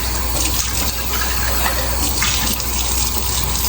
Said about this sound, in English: now we're gonna have the water running